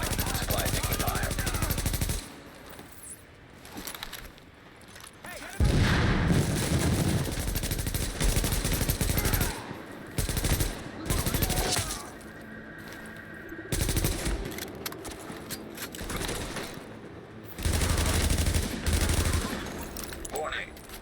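Bursts of automatic gunfire rattle through a firefight in The Division while a supply point comes under attack, loud volleys broken by short pauses, with game voices heard between them.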